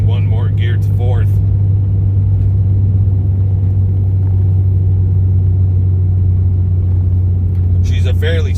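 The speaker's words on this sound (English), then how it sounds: "Guess is we'll be downshifting one more gear to 4th." A vehicle engine drones loudly and steadily as it climbs a steep incline in a lower gear. The deep rumble runs throughout, with brief voices at the start and end.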